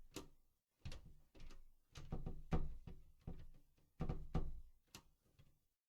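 A key goes into a door lock in a point-and-click adventure game, heard as a series of close wooden knocks, clunks and rattles in irregular bursts with no talking.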